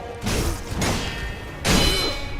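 A burst of harsh, noisy game effects as an enemy dies, two crashing swooshes with a thud between, ending in a louder, sharper impact.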